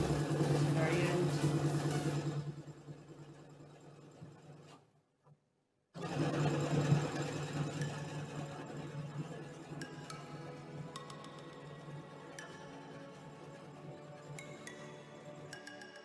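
A sewing machine stitching a lock stitch on a fabric placemat, a steady close whirring run that stops briefly to near silence, then resumes with a lighter hum and faint clicks.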